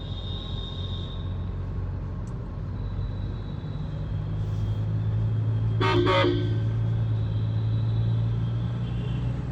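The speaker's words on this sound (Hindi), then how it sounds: "इसका हॉर्न तो चेंज करवाना बहुत ज़रूरी था।" A Mahindra Scorpio N sounds its horn in two quick close honks over the steady low rumble of the engine and road noise.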